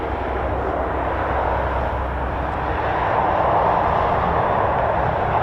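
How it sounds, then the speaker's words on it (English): Red Arrows aerobatic jets at RAF Waddington give a steady, loud, broadband roar and whine of jet engines starting up, a continuous rumble that swells slightly toward the end with no voices. "got some red arrows starting up there now."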